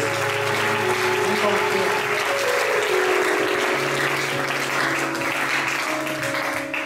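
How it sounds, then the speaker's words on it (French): A church congregation applauds and cries out in praise of the name of Jesus. The sustained, dense clapping mixes with raised shouting voices throughout, filling the room at full loudness. "Acclame encore très fort le nom de Jésus."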